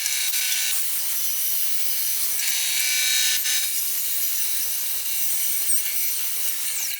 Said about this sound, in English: that metal cut really nice with my bandsaw